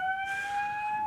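A fire alarm sounds indoors, a steady piercing electronic tone held continuously and loudly with no talk over it.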